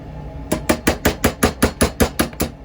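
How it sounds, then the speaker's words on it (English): A pin is hammered out of a broken hickory golf club in about ten sharp, evenly spaced metal strikes that land close up and loud, with no voices. "while you hammer out the rest of the pin"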